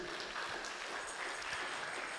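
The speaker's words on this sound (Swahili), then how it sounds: "Tumpige Bwana makofi" A church congregation at a Kikuyu service claps for the Lord, a faint, steady patter of applause from a crowd at a distance, with no voices over it.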